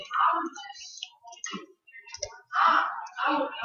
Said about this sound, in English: What you're going to do is you want to press Windows R.